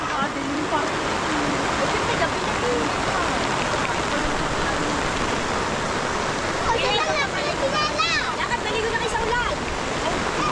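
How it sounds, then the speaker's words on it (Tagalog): Steady, dense rain pours down in a constant hiss, with excited voices and some chirpy whistling sounds breaking through near the end. "Grabe yan, lakas ang ulan no."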